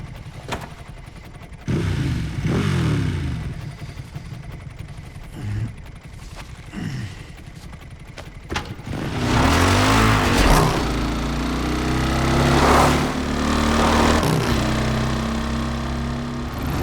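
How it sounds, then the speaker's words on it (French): Motorcycle engine in the video game Resident Evil Requiem, starting with short rough bursts, then settling into a loud, steady revving drone that rises and swells for several seconds. "on va peut-être faire un petit tour en moto"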